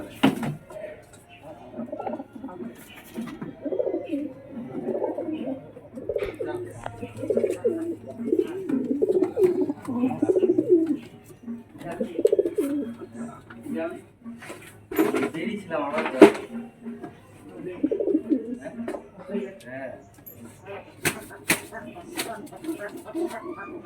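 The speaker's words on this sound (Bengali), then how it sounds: "এগুলো কক্কা পায়রা আছে, কোয়ালিটি খুব ভালো।" Kokka breed pigeons coo repeatedly in soft, low, rolling phrases close by, while people talk over them and a few clinks and knocks sound in the background.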